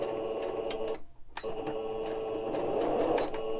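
Sewing machine stitching nearby, a rapid mechanical whir with a brief pause before resuming its steady buzzing run.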